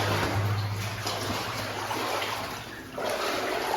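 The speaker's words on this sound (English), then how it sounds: "Gotta wade through all this water between here and there." Someone wades through shallow water inside an abandoned mine tunnel in Alaska, a continuous close sloshing and splashing with a brief lull before the churning water picks up again.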